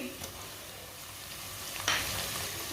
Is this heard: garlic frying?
yes